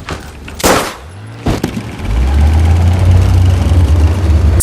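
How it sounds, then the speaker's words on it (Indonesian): A loud gunshot in a war film rings out amid sharp cracks, followed by a heavy, low rumbling engine-like drone that swells and holds steady to the end, with no speech. "tiba-tiba dia menembak mati Tuan Meng."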